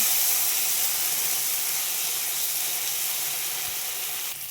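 A spice paste of garlic and ground chili fries in oil, giving a loud, continuous hiss and sizzle that holds steady close up and fades slightly at the end.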